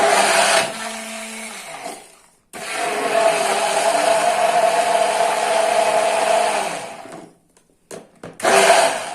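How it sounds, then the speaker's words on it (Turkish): An electric blender grinds aloe vera leaves in a loud, steady whirring churn. It stops briefly, runs again for several seconds, then ends in a few short bursts. "Bu şekilde iyice parçalanana kadar çekmeye devam edeceğiz."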